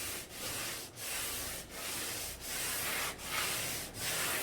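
Cured epoxy compound being sanded by hand with Abranet mesh abrasive, a steady hissing scrub in long back-and-forth strokes with brief gaps between passes, close and alone.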